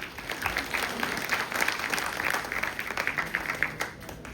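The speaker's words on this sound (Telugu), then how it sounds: "వాళ్ళకి వస్తారు బిగ్ క్లాప్స్ అండి." Sustained audience applause at a diamond-themed celebration function, dense steady clapping from a crowd at moderate distance, with no voices standing out over it.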